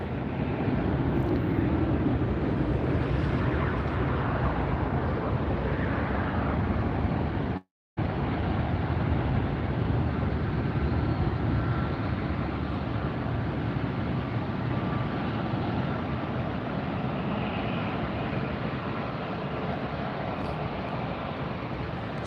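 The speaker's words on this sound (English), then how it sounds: "Got a couple of Deltas taxiing up now." Several Delta airliners taxi at LAX, their jet engines giving a steady, loud broadband roar that holds throughout, with one brief dropout.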